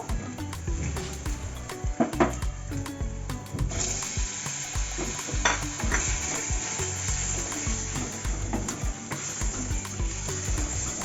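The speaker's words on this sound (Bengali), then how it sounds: "এবার আমি টমেটো কুচোগুলো দিয়ে দেবো।" Chopped tomatoes sizzle and crackle steadily in a hot pan while cooking a prawn rasha, with occasional clinks and scrapes of a utensil over the frying.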